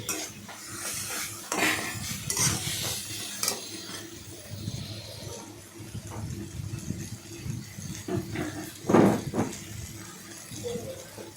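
Fried hilsa fish bones being stirred into shola-kochu greens in a pan, with metal utensil clatter, scraping and a faint sizzle spread across the clip.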